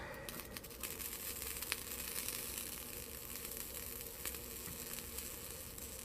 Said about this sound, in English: You hear the flux sizzle.